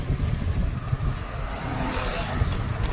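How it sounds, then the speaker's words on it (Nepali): Steady outdoor wind buffets the microphone during a bicycle ride, producing a continuous low rumble and hiss that carries on evenly without pause. "हावा पनि मजाले चलिरहेछ।"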